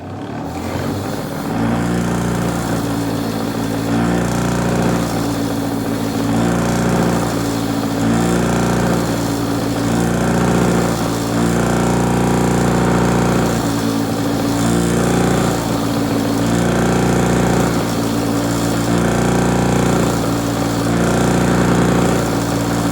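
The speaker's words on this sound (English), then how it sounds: "First thing I'm going to do is wire wheel, clean these up." Steady, loud motor drone of a spinning wire wheel cleaning the threads on brake lines held in a vise, running continuously close by, with the grinding texture barely shifting and no voices over it.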